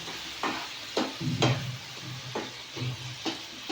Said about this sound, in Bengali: জল দিয়ে মশলাটা ভালো করে কষিয়ে দিয়ে দেবো